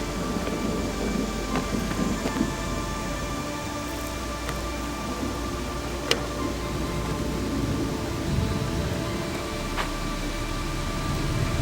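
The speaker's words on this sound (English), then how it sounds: "It sounds like thunder pretty bad." Steady rain falls at a forest campsite in Shawnee National Forest, a dense continuous hiss with low rumbling thunder beneath and occasional sharp crackles, with no talking.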